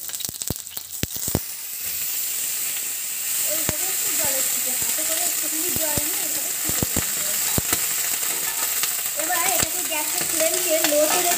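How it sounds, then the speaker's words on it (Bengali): Capsicum sizzling steadily in a pan over a low gas flame after a light sprinkle of water, with sharp scraping clicks of stirring throughout and a brief faint voice partway through. "এখানটায় আমি দিয়ে দেব সামান্য পরিমাণে একটু জলের ছিটে।"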